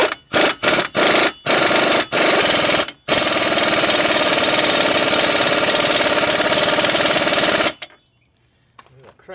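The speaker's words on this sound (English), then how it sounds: "I'm going to tighten down this nut on this CV axle." A power impact tool drives down the CV axle nut during a front wheel bearing job. It fires several short bursts and then a long loud continuous hammering run, followed by quiet.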